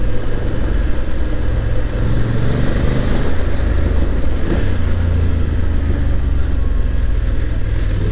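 BMW F850GS motorcycle riding on a road, its engine droning loud and close under steady throttle with rushing wind noise, no talk.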